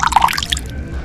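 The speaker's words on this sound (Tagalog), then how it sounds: "Lalagyan din natin ng suka." Vinegar splashes into a soy sauce mixture for a crispy pork and tofu special sauce, a quick run of close, bright liquid drips and splatters that stop about halfway through.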